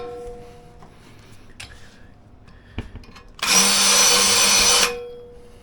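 A power drill fitted with a countersink bit whirs in one loud burst of about a second and a half, following a few quieter knocks and clicks of handling.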